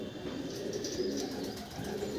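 Madras pigeons cooing steadily in a loft, a soft, continuous murmur of several birds close by, with no voices.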